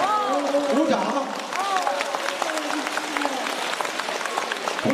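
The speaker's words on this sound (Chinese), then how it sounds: "鼓掌" An audience at a Buddhist Dharma talk claps together, a dense patter of applause that carries through the whole moment while speech is heard over it.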